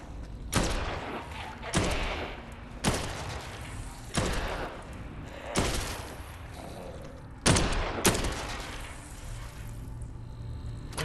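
A nail gun firing in the zombie video game Dead Island 2, about eight loud separate sharp bangs spaced irregularly about a second apart, each trailing off into low rumbling game ambience.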